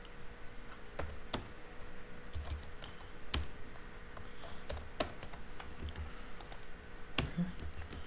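Keys clatter in irregular bursts as code is typed on a computer keyboard, with sharper occasional clicks that could be the spacebar or enter key, close and fairly quiet over a low steady room hum.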